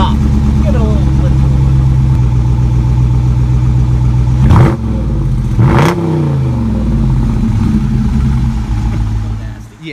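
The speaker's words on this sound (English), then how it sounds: "Oh man, that's just stock exhaust." A new Dodge Charger Daytona with stock exhaust idles with a deep, loud rumble close by, then revs sharply twice, each blip rising and falling quickly before settling back to a steady idle.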